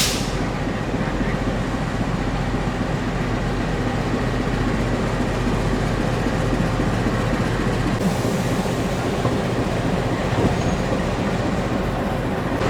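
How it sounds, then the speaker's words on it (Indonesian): A locomotive couples onto the Sangkuriang compartment train carriages at a station, a steady loud rumble of idling rail equipment with faint clanks throughout. "ini dia lokomotif kereta api Sangkuriang udah digandengkan ke rangkaian"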